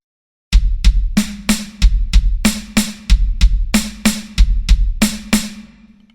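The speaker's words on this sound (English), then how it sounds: "we're going to start with 2 bass drum notes and then followed by 2 snare hits" Drum kit playing a linear four-note pattern, two bass drum notes followed by two snare hits, repeated steadily and close up with crisp, evenly spaced strokes and no talking.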